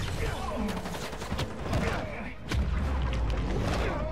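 Dense gunfire crackles through a fight in the video game Marvel's Spider-Man 2, rapid overlapping shots and booms mixed with game noise, with a player's voice talking over it.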